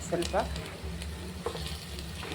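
Mango and amla pieces fry in a pan with a steady low sizzle and some stirring, while brief voice fragments come through over the cooking.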